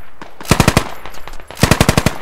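Automatic rifle fire in the video game Squad, two sharp bursts of about four to five rapid shots each, loud and close, with a short gap between them and no talking.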